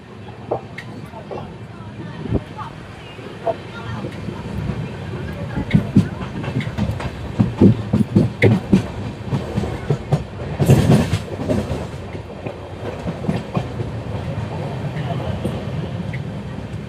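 A passenger train rolls slowly through Coimbatore North station without stopping, with a steady rumble, irregular wheel clacks over rail joints and bursts of louder rattling, heard from on board under some talk.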